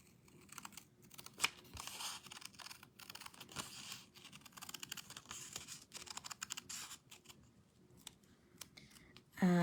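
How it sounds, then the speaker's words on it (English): Scissors trimming the stitched edge off a paper die cut for a card, a series of soft close snips and paper rustles at an uneven rhythm, fairly quiet and without talking. "I am trimming the stitching off the edge of this die."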